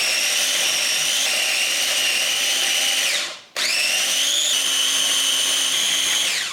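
An electric chopper whirs loudly and steadily as it chops onions and ginger. The close, high motor whine cuts out briefly midway, then spins straight back up and runs on.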